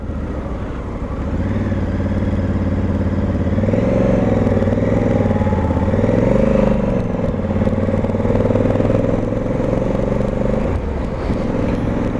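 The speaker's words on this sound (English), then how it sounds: "really listening to the thump of this parallel twin" A Honda Africa Twin 1100 parallel-twin motorcycle engine runs steadily while riding, giving a low, even thrum that swells and shifts in pitch midway before settling again near the end.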